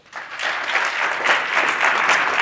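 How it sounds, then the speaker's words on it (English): An audience at a directors' event panel discussion applauds the panelists; the clapping swells quickly and then holds steady and loud to the end. "Please give my panelists a round of applause."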